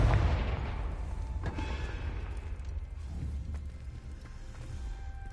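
A spell blast from the Confringo charm in Hogwarts Legacy booms loudly at the start, then rumbles and crackles as it fades over a few seconds, with a few sharp cracks mixed into the decaying low roar.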